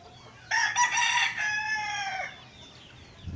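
A rooster beside a national road in the Philippines on a late afternoon crows once, loud and close, in a long drawn-out call that trails off against faint outdoor background.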